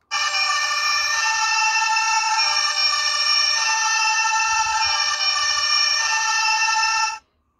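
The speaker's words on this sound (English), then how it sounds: "Fire engine." Fire engine siren tone played through a Hornit Mini electronic horn for bikes and scooters, a loud continuous wailing siren lasting about seven seconds before cutting off abruptly.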